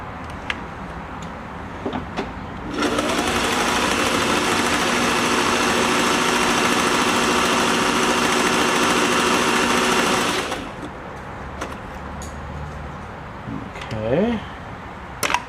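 Singer 503A sewing machine running steadily for about eight seconds while sewing a banner stitch, a loud, close, even mechanical whir, with quieter handling clicks before and after.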